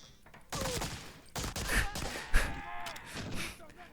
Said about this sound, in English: There's gunfire going on outside